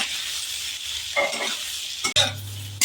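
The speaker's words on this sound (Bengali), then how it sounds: "কুঁদরি ভাজা হচ্ছে।" Ivy gourd (kundri) fries in oil in a wok on a gas stove, giving a steady, close sizzle with stirring scrapes and a sharp metallic clatter near the end.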